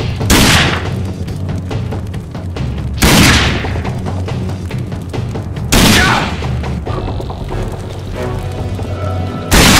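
Gunfire and heavy explosions from the video game RAGE: three big booming blasts land a few seconds apart over continuous rattling shots, loud and close throughout.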